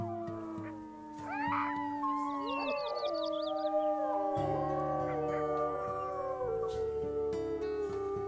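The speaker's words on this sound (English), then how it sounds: "Let's go ahead and do our morning howl as well." A pack of wolves in the game Wolfquest gives its morning howl, several long rising and falling voices overlapping close and clear, swelling into a full chorus partway through.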